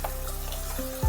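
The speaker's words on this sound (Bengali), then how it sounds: "গাজর আর বিনস হালকা করে ভেজে" Carrots and beans frying lightly in oil in a pan, a steady close sizzle with faint stirring, no voices.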